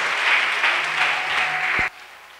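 A church congregation claps in praise, a sustained, even roar of many hands that cuts off abruptly near the end, leaving near quiet.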